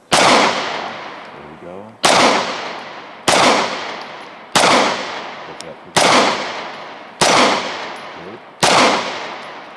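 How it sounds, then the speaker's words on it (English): Walther PPQ pistol fired at a range: eight sharp, loud shots spaced about a second and a half apart, each ringing out and decaying before the next, with brief talk between them. "Those first 2 rounds, dude, were right on top of each other."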